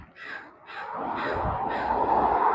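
Crows caw outdoors in several harsh, evenly spaced calls, fairly close, over a rising background rumble, with no talk.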